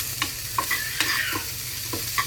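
Sugar being stirred into a crispy fried snack mixture in a pan, a soft continuous sizzle broken by several scraping stirring strokes, close, with no talk.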